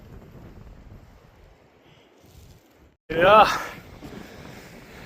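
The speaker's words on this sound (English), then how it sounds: "Some wind up here." Wind gusts over a mountain ridge above the treeline in the Tararua range, a low rumble that builds into a brief loud buffeting blast against the microphone, with a short spoken word among it.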